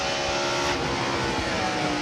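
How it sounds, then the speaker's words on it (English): A NASCAR stock car at Watkins Glen in 1996 roars steadily and loudly through a downshift, its engine note holding a continuous broadband drone with a slight dip and rise in pitch, no voices over it. "Now he downshifts."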